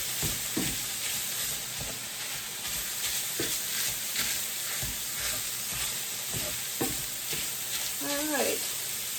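Pre-cooked, frozen, crumbled hamburger sizzles steadily in a frying pan as a utensil stirs it with soft scraping taps, the frying hiss continuous throughout, with a brief voice near the end.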